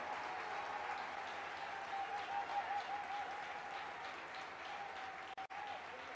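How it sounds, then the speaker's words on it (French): A church congregation claps its hands together in a steady, even wash of applause at a worship service, heard at a distance with some voices underneath. "Now is the good time for you to clap your hands"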